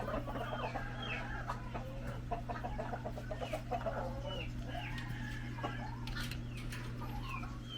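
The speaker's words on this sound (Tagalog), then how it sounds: "ito ang aming Rhode Island. Rhode Island Red." Rhode Island Red chickens cluck and murmur on a farm, several close birds calling in short irregular bursts over a constant low mechanical hum, with no talking.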